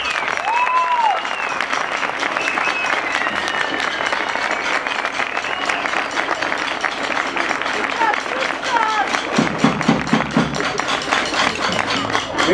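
Audience applause for the Associação Lérias students after a folk stage performance with bagpipe, percussion, choir and theatre pupils, a steady wash of clapping throughout with some louder thumps and rustle near the end.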